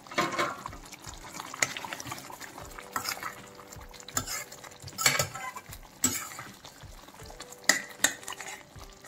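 Masala baby potato curry with kasuri methi and coriander stirred in a pan over low heat, giving soft scraping and clinking of a spoon against the pan with a faint sizzle, steady and close with no talk.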